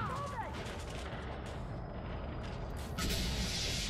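Heavy weapons fire at a Thargoid in the space game Elite Dangerous, a dense, continuous roar of rapid gunfire that stays loud and steady and surges stronger near the end, with no talk over it.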